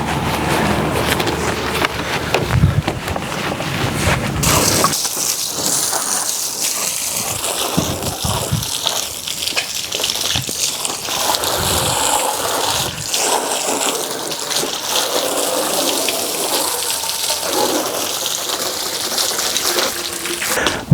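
Water from a hose or pressure sprayer splashes steadily over a nearly new motorcycle during a wash, a continuous broadband gush that runs the whole time with a brief louder burst near the start.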